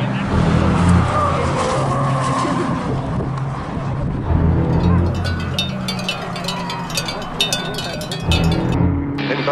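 Race cars at the Calafat circuit start off in a crowded field during a club race, their engines roaring loud and close as they accelerate together, with tire noise and a voice faintly mixed in.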